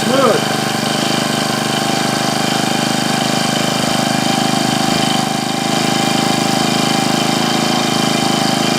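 A Husqvarna 224L string trimmer engine runs indoors at half choke after a no-start repair, a loud, steady two-stroke drone with a brief voice near the start.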